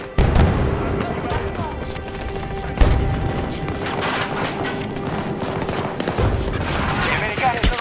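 Explosion and bursts of gunfire from a war video game, with a sharp blast near the middle among rapid shots, under an Italian-speaking game voice.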